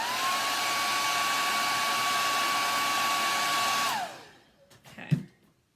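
A hair dryer blows over freshly painted strawberry kitchen decor, a loud, steady whooshing whine held for about four seconds before switching off and winding down, followed by a few light handling knocks.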